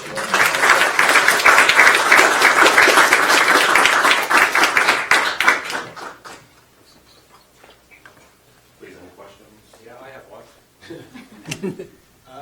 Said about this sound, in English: I'd like to give a round of applause to these guys